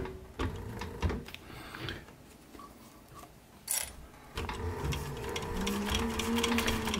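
A sewing machine stitches a short brim cap through plastic near the presser foot, running in brief mechanical bursts, pausing with a faint rattle, then whirring steadily and close for several seconds. No one speaks.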